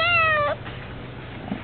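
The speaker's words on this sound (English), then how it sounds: "Meow. Meow. Did you hear? Meow." A single short cat meow, close and clear, followed by quiet room sound.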